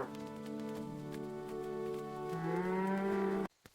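A lame cow in a 3D cartoon village lets out one long, drawn-out moo of about three and a half seconds, with the pitch shifting partway through. It cuts off abruptly, leaving faint background sound.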